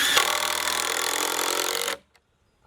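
Power drill driving a screw into a board of a raised garden bed, a steady loud whirring buzz that runs for about two seconds and stops abruptly, followed by near silence.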